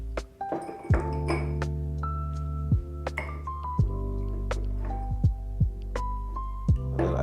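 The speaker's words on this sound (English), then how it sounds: "we're gonna introduce some ice into both" Ice cubes dropped into two glasses of whiskey, chill-filtered and non-chill-filtered, giving several sharp clinks and splashy knocks spread across the stretch, with ringing tones trailing after each drop.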